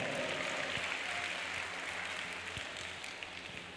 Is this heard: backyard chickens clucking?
no